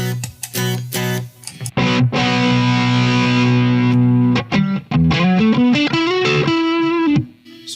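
Electric guitar through a 100-watt Blackstar HT Stage 100 MK III amplifier, loud and distorted, with choppy opening stabs, then a long sustained chord and a few more riffs ending on a held note.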